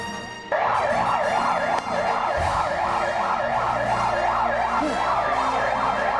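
A fire truck's loud wailing siren cycles up and down steadily and continuously, close by, with a low vehicle rumble underneath.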